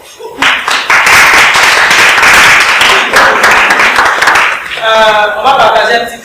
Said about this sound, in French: Donc on va s'applaudir.